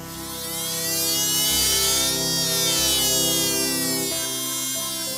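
A Works portable Dremel rotary tool fitted with a diamond bit runs steadily at close range, giving a continuous high whine with a slight rise and fall in pitch over several seconds.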